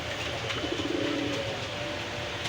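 Pigeons coo softly in a low, rolling burble, close by at a pigeon market, over a faint background hum.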